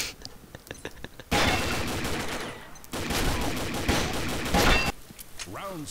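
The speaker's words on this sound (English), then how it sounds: "Why are you shooting at me?" Gunfire in the Combat Arms online shooter: long, loud bursts of rapid automatic fire with short gaps between them, preceded by a few sharp single shots.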